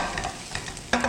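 Shrimp being stir-fried in a pan for shrimp fried rice, a brief close burst of stirring and light sizzling with a sharper scrape near the end, no voices.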